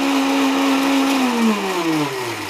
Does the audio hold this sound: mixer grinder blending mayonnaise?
yes